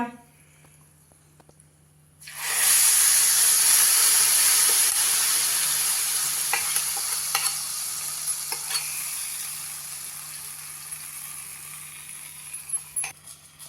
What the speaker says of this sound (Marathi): त्यामुळे त्या तडक्याची चव अजून फार सुंदर येणार आहे तडका आपण यावर घालूया